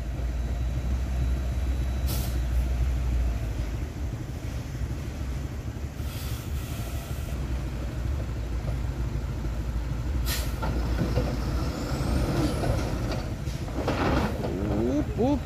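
Hino truck engine rumbling and revving on a sloped, tilted road, a low heavy drone with sharp air-brake hisses and clanks at intervals, while people talk over it.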